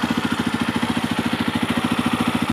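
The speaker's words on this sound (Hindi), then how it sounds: "अब मैं आपको इसका साउंड सुनवा देता हूँ। तो देखो आइडियल पे कुछ इस टाइप का आपको साउंड देखने को मिलेगा।" A 2023 Jawa 42 motorcycle engine idles steadily, its even low thumping pulses repeating close and loud with no voices over it.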